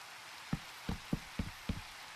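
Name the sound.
rain falling in Minecraft video game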